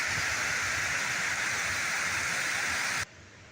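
High, fast-running water rushes loud and steady as broadband noise, with no talk, then cuts off abruptly near the end.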